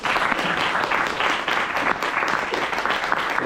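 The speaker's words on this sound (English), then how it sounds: "Give yourselves a round of applause." A Toastmasters meeting audience gives a sustained round of applause, dense steady clapping from many hands filling the room for the full stretch without a break.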